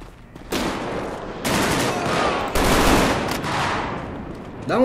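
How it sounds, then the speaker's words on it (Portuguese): Bursts of rapid automatic gunfire from the video game GTA V, loud and sustained, several volleys in a row with short gaps between. "Da onde que é tiro?"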